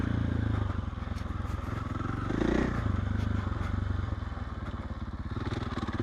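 An off-road motorcycle rides single track: a steady, loud engine drone close up, with clatter and thumps from the rough trail and a brief rise in engine note midway.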